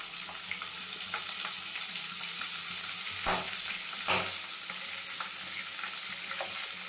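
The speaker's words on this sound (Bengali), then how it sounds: "এখানে আমি 1 চামচের মতন বাটার দিয়ে দিচ্ছি।" Butter melts into hot mustard oil in a wok, a steady bright sizzle with a couple of sharper crackling surges, no voices over it.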